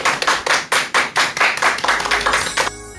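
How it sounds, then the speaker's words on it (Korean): A short burst of audience hand clapping at a lecture, roughly a dozen sharp claps in a fairly even rhythm, close and loud, then stopping abruptly. "큰 박수 부탁드립니다."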